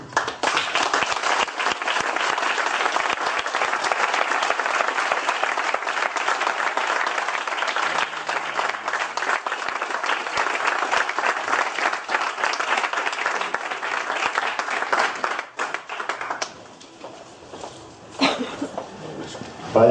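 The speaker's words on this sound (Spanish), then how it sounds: "Sobre todo el aplauso es para él." An audience applauds steadily and loudly after a talk on mysterious places, the dense clapping lasting many seconds before thinning out and trailing off near the end.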